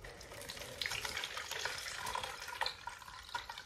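Water poured from a container onto potted plants while a plant cupboard is cleaned, a faint, steady splashing trickle with soft irregular spatters.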